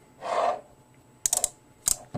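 A Neilsen 3/8-inch drive 72-tooth quick release multi-angle flex ratchet, giving a few short bursts of fine metallic clicks after a soft rub, close and quiet in a silent room.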